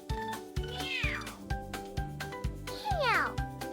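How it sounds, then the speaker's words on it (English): A cat meows twice, rising and falling cries over a steady repeating thumping beat of background music, close and clear. "C for cat."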